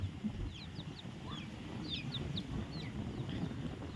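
Mother hens cluck softly in a farmyard amid steady background noise, with scattered higher chirps from birds overhead.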